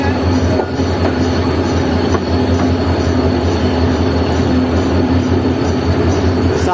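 Shah Latif Express train cars rumble steadily and loudly at a station, with faint rhythmic wheel clacks over the rails and a sustained, even roar throughout.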